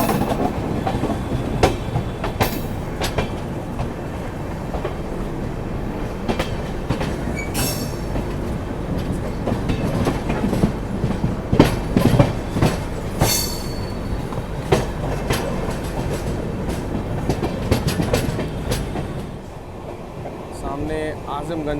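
The Delhi–Sairang Rajdhani Express runs through Bihar toward Malda with a steady loud rumble, rhythmic clickety-clack of the wheels and occasional squeals, heard from inside a first AC coach while people talk.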